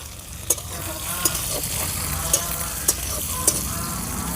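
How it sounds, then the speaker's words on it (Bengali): Fried small river fish stirred into a sour, spicy greens curry, a steady close sizzle and bubbling with a few sharp clinks of a spoon against the pan. "এবার ভেজে রাখা মাছগুলো দিয়ে দেব"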